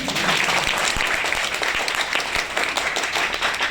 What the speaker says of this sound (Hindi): ताली बजा दो फिर